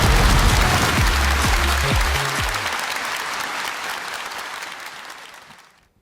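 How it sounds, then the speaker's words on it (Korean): A seminar audience at a business leaders' forum gives warm, sustained applause to welcome a lecturer, loud at first and gradually fading out over several seconds. "회장님을 뜨거운 박수로 모시겠습니다"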